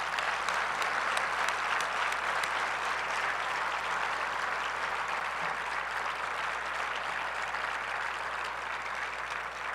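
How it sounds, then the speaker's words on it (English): Sustained audience applause fills a hall during Reno's 2019 State of the City address, a dense, steady wash of clapping from a large crowd that holds at an even level for the whole stretch with no voices over it. "Yes, keep clapping."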